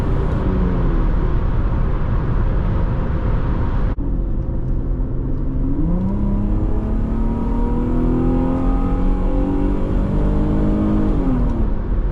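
A 2006 Infiniti FX35 accelerates hard from inside the cabin, its engine note climbing steadily through the gears with clear upshifts, a loud continuous drone with no voices.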